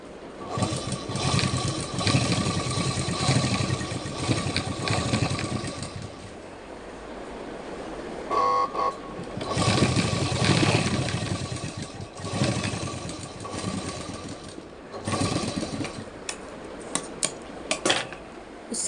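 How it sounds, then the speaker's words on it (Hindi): A household sewing machine stitches a lap seam on palazzo pants, its motor whirring in steady, close bursts with short pauses between runs of stitching. "उसके बाद हम एक लप पे सिलाई चलाएंगे।"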